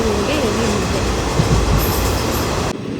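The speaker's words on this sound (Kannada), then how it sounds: "ಟ್ರೈನ್ ಹತ್ತಿದಾಗ 5 ಗಂಟೆ ಹೊಸಪೇಟೆ ಟ್ರೈನು ಅರಸೀಕೆರೆಗೆ ಹೋಗ್ತಾ ಇತ್ತು" A Hosapete train travelling toward Arsikere rolls along with a steady, close rumble and rattle of carriages and wheels, running loud throughout before cutting off abruptly at the end.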